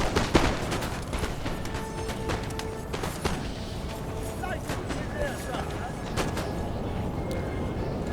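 Musket volley fire during a Napoleon: Total War multiplayer battle on Italian grasslands, a dense, steady crackle of many shots rolling on continuously, with scattered sharper cracks standing out.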